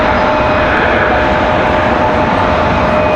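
Steady loud roar of jet engines at Raleigh-Durham International Airport, where a JetBlue Airbus A220 is preparing to push back; continuous broadband rumble with faint tonal whines, close, with no talking.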